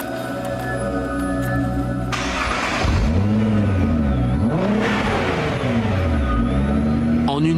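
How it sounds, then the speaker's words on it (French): A Nissan GT-R R35 engine fires up for the first time on a dynamometer after a steady mechanical whir, then revs up and down in repeated loud sweeping surges, close and continuous. "le moteur rejoint le banc de puissance où il démarre pour la toute première fois"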